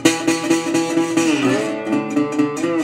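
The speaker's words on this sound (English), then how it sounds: "so the turnaround in the song," Delta blues guitar turnaround from a song, played alone up close: a run of ringing picked notes with a sliding bend near the middle, steady and moderately loud throughout.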